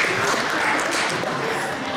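A short, dense burst of audience clapping fills a sports award banquet hall for the varsity boys soccer team, even and continuous, with faint chatter mixed in.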